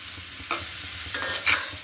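Long-cut bitter gourd slices sizzle in a pan while being stirred, a constant frying hiss broken by a few sharp spatula scrapes near the middle and end, close up with no voices.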